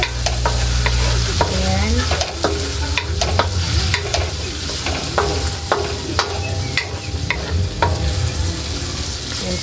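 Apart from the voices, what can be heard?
stirring tomatoes frying in a pan for sardine sauté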